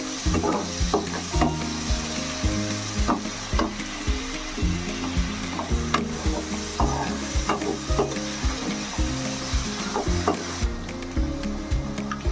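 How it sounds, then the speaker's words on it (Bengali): Onions fry in oil with green and dried chillies for chicken korma, a constant close sizzle broken by repeated scraping and stirring strokes, with a steady tonal backing underneath and no speech. "পেঁয়াজটা একটু ভাজা ভাজা করবো"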